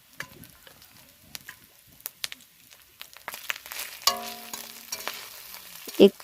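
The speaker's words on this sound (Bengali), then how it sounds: "আমি মশলাটা ভালো করে কষিয়ে নেব" Ground spices — ginger, turmeric, coriander, cumin and red chilli powder — sautéing in hot oil for a fig (dumur) curry, a soft steady sizzle with scattered stirring scrapes and a louder spatula knock near the end.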